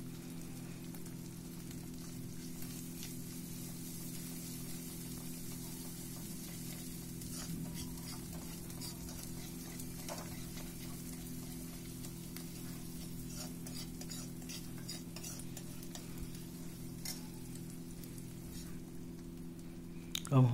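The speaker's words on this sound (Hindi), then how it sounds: "प्याज का पेस्ट, अदरक लहसुन का पेस्ट डाल के हमने मिक्स कर दिया है कढ़ाई में" Onion paste and ginger-garlic paste being stirred and sizzling in a kadai, a soft continuous frying hiss with scattered scraping clicks, fairly quiet and steady throughout.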